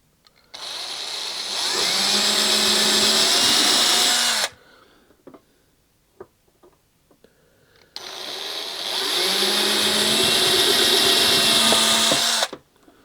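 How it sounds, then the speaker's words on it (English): A power drill bores holes in a Hangar 9 Ultra Stick 10cc model airplane during assembly, running in two sustained, high-pitched whining bursts of about four seconds each. Quiet handling clicks fill the pause between them. "So all I've got to do now is just drill a couple of holes in here,"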